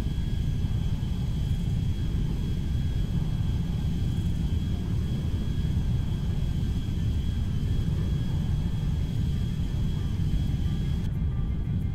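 A modded Airbus A310-300 climbing out after takeoff in GTA V gives a steady, loud jet roar with a deep low rumble and a thin high engine whine, holding even and unbroken with no talk.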